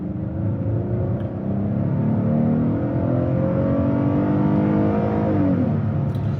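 Engine of a 2026 Hyundai Palisade Calligraphy running with a steady low drone and a gradual rise in pitch, like a gentle rev, heard alone at moderate volume for several seconds.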